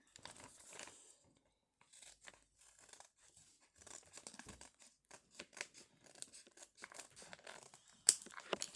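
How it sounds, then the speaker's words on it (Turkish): A Labubu blind box package is cut open with scissors, giving a series of close, quiet snips and crinkly plastic tearing sounds in irregular bursts, with a sharper rip near the end and no speech. "Hadi açalım hemen ben keseyim."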